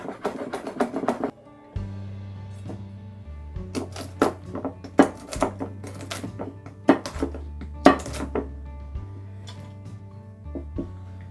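A knife slices through a rolled-up banana leaf on a board in quick, crisp cuts, clustered in short bursts, close up, over a low background tone.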